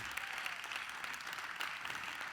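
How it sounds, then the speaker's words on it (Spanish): A church congregation applauding during a sermon on the Trinity: a soft, distant wash of many hands clapping, steady and brief. "vamos a darle un fuerte aplauso al Señor"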